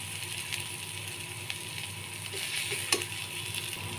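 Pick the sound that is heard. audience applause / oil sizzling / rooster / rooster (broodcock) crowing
oil sizzling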